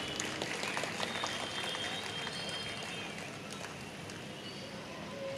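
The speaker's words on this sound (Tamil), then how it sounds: "ஒரு பலமாக ஒரு கைத்தட்டல் கொடுங்களேன்" Steady, fairly faint applause from an audience at a Tamil speaking event, a dense patter of clapping that holds evenly throughout.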